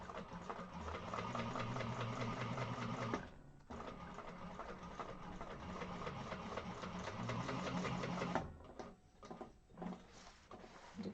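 A sewing machine stitches the seam of an Edina zipper bag with a seam guide, running in a steady, close mechanical whir that stops briefly near three seconds and again near eight and a half seconds, then restarts in short bursts.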